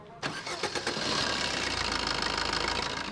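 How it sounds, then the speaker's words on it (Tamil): A 2014-model car engine cranks and catches after a brief silence, then settles into a steady, close idle with a low rhythmic rumble. "இப்போ இன்ஜினோட நாய்ஸை லைவாக கேளுங்க"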